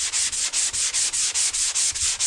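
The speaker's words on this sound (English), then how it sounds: "I will take a sanding sponge. This is 220 grit, and I'll just sand this smooth." A 220-grit sanding sponge rubs back and forth over a drywall patch in steady, close strokes, about ten quick even passes with brief pauses between them.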